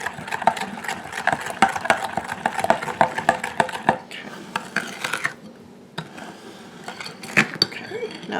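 Blondie batter being mixed in a bowl, with a brisk run of repeated clinks and scrapes of a utensil against the bowl, then a quieter stretch with a few scattered knocks.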